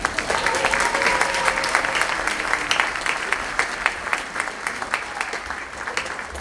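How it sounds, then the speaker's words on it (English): An audience at a 6th-8th grade school choir concert applauds, a steady stream of clapping at moderate level that holds throughout and eases slightly toward the end. "one more round of applause for Mrs. Zimmerman"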